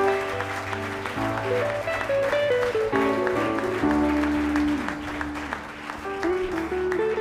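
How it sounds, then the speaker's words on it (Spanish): A church congregation claps in loud, steady rhythmic strikes over sustained keyboard-like music with shifting held notes, filling the hall for several seconds. "Dele un aplauso a Dios."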